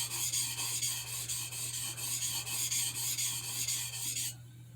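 A knife is sharpened on a cheap water stone, with rapid rhythmic rasping strokes repeating evenly for about four seconds before stopping, close and moderately quiet over a low steady hum.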